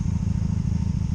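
A 2002 Honda Magna VF750C motorcycle engine pulling hard under straight throttle, a dense, steady low rumbling drone heard close up for a brief moment.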